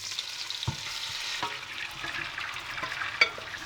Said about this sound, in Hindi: अब ये मैरिनेटेड चिकन इसमें जाएगी।